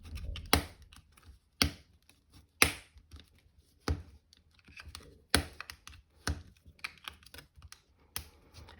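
A scoring tool pressed hard along cardstock while making a diamond fold card, giving sharp scraping strokes in a steady series of about ten, close and fairly loud, with quieter scratching between them and no talk.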